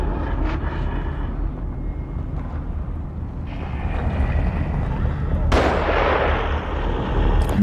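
Gunfire in the horror video game The Evil Within, a dense stretch of loud booming shots and rumbling blasts layered over game noise, with a sharper burst near the end.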